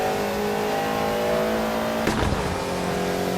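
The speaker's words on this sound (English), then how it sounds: "You can hear the crackle. As I accelerate here and change gear," Dallara race car in the Assetto Corsa EVO racing game, engine droning steadily at high revs, then a sharp gear change with a brief crackling burst before the engine note settles again.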